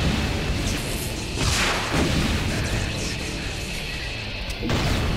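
Loud explosions in the video game Brutal Doom, heavy booming blasts with crashing debris over a continuous roar of game audio, several bursts in quick succession.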